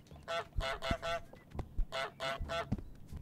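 Repeated nasal honks from the goose in Untitled Goose Game, about six loud, close calls in quick succession with short gaps between them.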